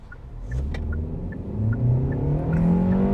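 Kia K4 engine revs up steadily in sport mode, its droning pitch rising as the car accelerates, heard from inside the cabin with a regular faint ticking.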